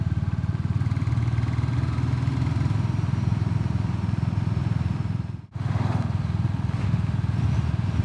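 A Royal Enfield Classic 350 single-cylinder engine thumps steadily and evenly under riding, close and continuous, with a brief dip midway as the throttle closes before the pulsing beat resumes.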